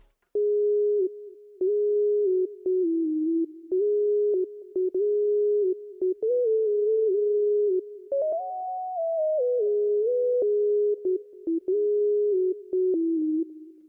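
A sine lead synth for a pluggnb beat, played on an Arturia MiniLab 3 MIDI keyboard, carries a clean pure-tone melody. Short phrases with brief gaps run loud and alone, with a higher passage near the middle.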